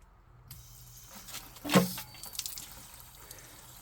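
Water draining from a UV filter system into buckets, a close trickling and splashing flow with a brief louder gush in the middle, then a steady lighter run.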